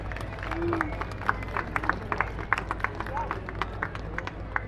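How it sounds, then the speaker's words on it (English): An outdoor crowd at the Llandudno Victorian Extravaganza in North Wales applauds women in Victorian dress, scattered distinct claps spread across a few seconds over background chatter and hum, moderately distant. "a big round of applause for our Victorian ladies"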